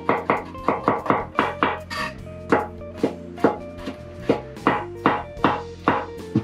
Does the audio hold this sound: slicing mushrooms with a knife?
yes